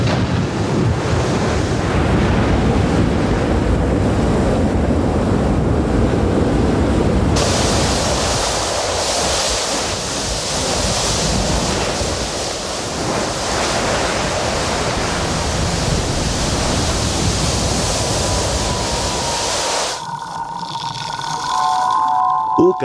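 Lava flowing into the ocean turns the volcanic coastline into a boiling sea, a dense roaring hiss of surf and steam mixed with wind, continuous and loud before cutting to a quieter passage near the end.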